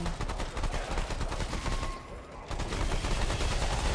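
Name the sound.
gunshots from the video game Remnant 2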